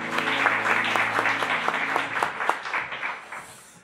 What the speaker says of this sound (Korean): 다시 한번 큰 박수 하겠습니다.